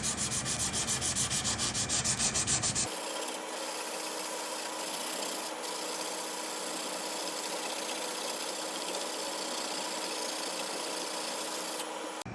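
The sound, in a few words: hand sanding Damascus seax hollow grind with sandpaper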